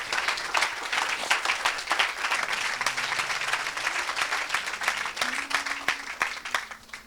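A church congregation claps together in steady, continuous applause, dense and sustained throughout, with faint voices and tones beneath the clapping.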